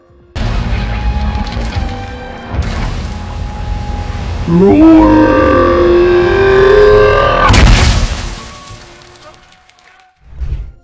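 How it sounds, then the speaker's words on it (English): AI-generated explosion sound design for a monster destroying a city, with deep booming blasts and a sustained shockwave rumble carrying a rising tonal roar, then a final burst fading into debris, loud and close. "There is this thunderous low-end blast, shockwave rumble with falling debris after the explosion."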